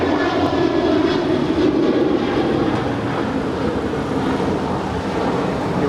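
United Airlines jet airplane roaring steadily at Los Angeles LAX airport, a loud continuous broadband engine rush with no break and no voices.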